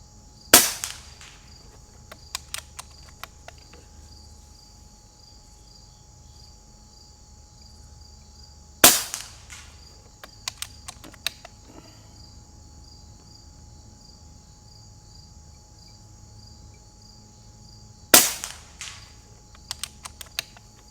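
Three sharp reports from an Umarex Gauntlet 2 air rifle fired across a chronograph, spaced about nine seconds apart, each followed by faint clicks and handling noises over a steady background of crickets; no talk.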